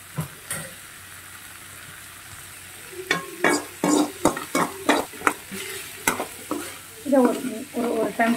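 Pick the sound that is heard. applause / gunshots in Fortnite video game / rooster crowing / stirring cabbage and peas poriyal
stirring cabbage and peas poriyal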